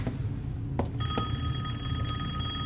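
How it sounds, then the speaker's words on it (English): A telephone rings repeatedly in the Resident Evil Village video game, its electronic bell tone sounding in short bursts over a low, steady game ambience with no talking. "Is she ever gonna answer that phone?"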